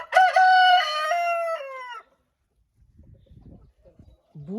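A rooster crows loudly and close by for about two seconds in a henhouse, followed by quieter scattered clucking and a short squawk from the hens.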